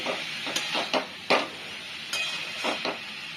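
Spices being stirred into a banana flower curry in a pan make a handful of separate scraping and tapping strokes over a soft background sizzle, close by and without speech.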